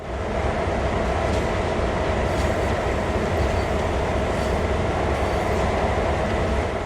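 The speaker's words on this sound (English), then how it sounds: "I guess we gotta wait for this train to get out of the way" A long, heavy passenger train in Train Sim World's Northeast Corridor New York route rumbles steadily past, loud and close, with continuous rolling wheel noise and a few faint squealing clicks and no talking.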